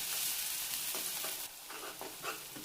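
Chopped onion sizzles in a hot pan, a steady hiss of frying with a few soft scraping stirs of a spoon, fairly quiet and close, with no talk.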